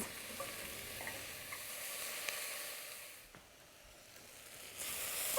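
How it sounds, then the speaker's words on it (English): Chopped vegetables for stock sauté in a pot over medium-high heat, giving a faint, steady sizzle with a few soft stirring clinks and a brief quieter dip partway through. "we'll let that saute for, 5 minutes or so over a medium-high heat"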